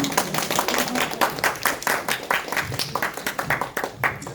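Church congregation clapping to welcome a pastor at a mothers' ministry gathering, a lively, fairly close round of hand claps lasting several seconds, uneven and somewhat sparse, with no talk over it.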